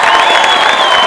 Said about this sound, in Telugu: కమ్ ఆన్ గర్ల్స్, అందరూ క్లాప్స్ కొట్టాలి